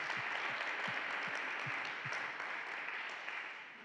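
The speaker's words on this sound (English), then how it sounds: "Let's give them a round of applause." Steady applause from an audience at a commemorative event fills the room, a dense wash of clapping with a few louder nearby claps, tapering slightly toward the end.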